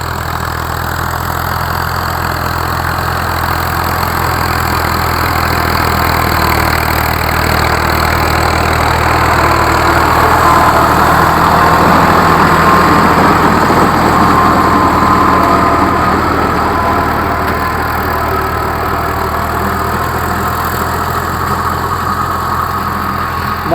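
A tractor engine runs on a farm during a maize harvest, a steady, loud mechanical drone that hums evenly with a slight swell midway, and no talk over it.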